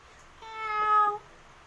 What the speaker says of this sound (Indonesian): itu adalah suara kucing